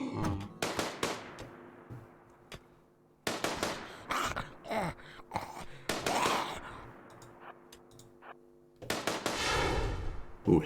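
Sharp gunshots crack through a zombie video game, several loud impulsive bursts spread across the span, one landing as a headshot, with a dense crackling flurry near the end.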